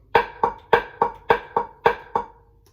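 Seven sharp, evenly spaced right-hand drumstick strikes on a drum, each with a short ringing decay, played alone at a steady quick pace.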